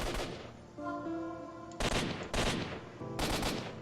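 Several sharp bursts of video game gunfire from an AK-74 crack in quick succession, loud and close, with brief tonal ringing between volleys.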